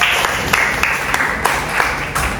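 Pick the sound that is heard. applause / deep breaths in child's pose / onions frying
applause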